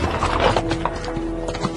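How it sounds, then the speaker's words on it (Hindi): A sound effect of several horses galloping in a spoken story, with a dense, close clip-clop of hooves and an occasional whinny, loud and continuous throughout. "ऐसा लगा मानो सारे घोड़े दौड़ते हुए गेस्ट हाउस के सामने ही आकर रुक गए थे"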